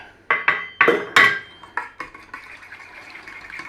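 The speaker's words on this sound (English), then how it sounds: "Let's chuck our fresh garlic in there with that lot. Give it a stir up." Fresh garlic stirred into melted butter in a pan: a run of sharp utensil clinks and knocks against the pan, loud at first and then lighter and more spaced, over a faint sizzle.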